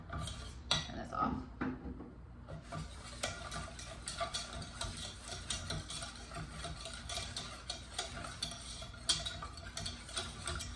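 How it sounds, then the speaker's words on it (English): A whisk rattles steadily against a metal bowl as lemon juice is worked into a thickened lemon soufflé base, fast close clinking ticks with occasional louder knocks and no talk. "Whisking in the lemon juice a little bit at a time."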